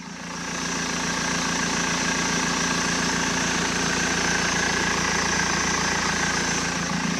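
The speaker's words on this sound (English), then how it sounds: "the engine sounds very smooth. Sounds like an M47 engine should." A car's M47 diesel engine idles smoothly and steadily, a close, even rumble with a faint rhythmic pulse that holds constant throughout without any revving.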